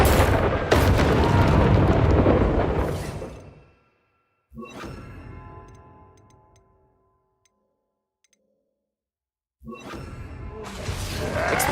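Fire spell bursts light boilers in the video game Hogwarts Legacy, each a loud whooshing blast with a ringing tail, separated by stretches of near silence.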